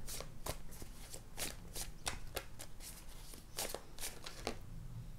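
Tarot cards being shuffled up close, a series of quick riffling bursts and soft flicks at an uneven rhythm.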